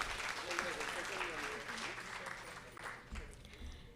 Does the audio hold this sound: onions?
no